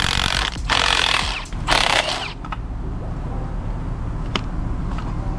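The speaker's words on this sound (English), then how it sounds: "Now we're going to be removing the nut on the top of the shock." A power tool whirs in two loud, rough bursts while removing the top shock nut on a Honda Acty during a coilover install, then cuts off, leaving quieter workshop background with a couple of faint clicks.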